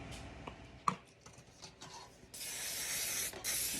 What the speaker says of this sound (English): I'm going to spray 6 pie pans.